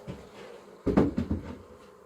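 Honey bees at an opened hive during an inspection after smoking, a low faint drone with a few short, louder buzzing passes close by.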